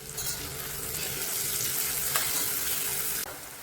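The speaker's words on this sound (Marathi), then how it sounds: "एक बारीक चिरलेला कांदा घालायचा आहे आणि कांदा आपल्याला छान ट्रान्सपरंट होईपर्यंत परतून घ्यायचा आहे" Finely chopped onion sautéing in hot oil with a pinch of asafoetida, a steady close sizzle that hisses on without a break and sits alone with no voices.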